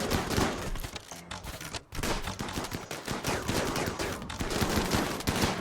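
Rapid, dense gunfire from a Rimworld raid against an insect infestation, sustained bursts of automatic shots filling the whole stretch with only brief lulls, loud and continuous.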